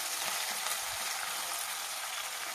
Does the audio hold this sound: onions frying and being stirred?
yes